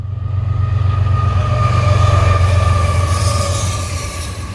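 A priority intermodal freight train passes nearby on a rainy early morning in New York State, a loud continuous rolling rumble of wheels with faint metallic squealing tones riding on top, swelling and easing slightly.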